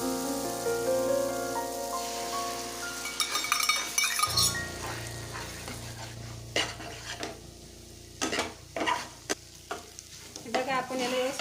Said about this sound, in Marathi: फोडलेले अंडे आपण यात घालून घेऊया।